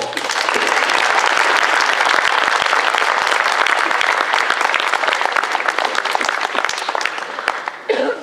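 A large audience at an association's general assembly claps loudly and continuously for about eight seconds, dense and even, tapering slightly at the very end.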